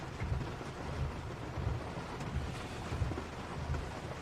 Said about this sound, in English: And we'll kind of wait patiently and let these storms roll by.